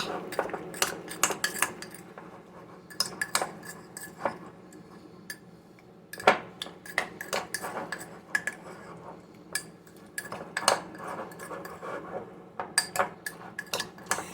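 A spoon scrapes and clinks against a dish while mixing sliced apples with cinnamon, giving a steady run of close, irregular taps and scrapes with no talking.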